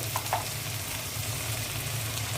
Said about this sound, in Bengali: আদা রসুনের পেস্ট দিয়ে দিচ্ছি।